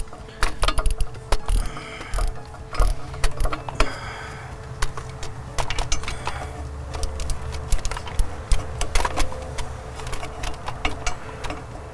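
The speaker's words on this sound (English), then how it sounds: "Deep well 10 metric socket and a swivel head ratchet." Swivel head ratchet turning a deep well 10 mm socket on a turbo bolt of a 7.3 Powerstroke diesel, giving a steady run of close, crisp clicking strokes throughout with no talk.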